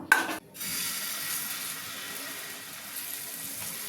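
Sweet corn dosa batter cooking on a hot pan gives a steady, faint hiss and sizzle. A brief clatter of utensils comes at the start, and no one speaks.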